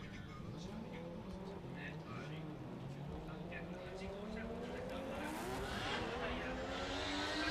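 Mazda FD3S RX-7 drift car at a Formula Drift Japan qualifying run at Ebisu, with a distant engine revving and rising, tire noise swelling toward the end, under ongoing commentary.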